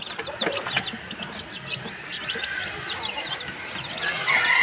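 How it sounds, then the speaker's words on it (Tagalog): A pen of about two dozen young chicks keeps up a dense, continuous chorus of high, thin peeps and soft clucks, fairly close and steady throughout. "26 na pirasong sisiw yung nandito."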